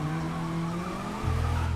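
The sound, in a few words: car skidding in video game Need for Speed (2015)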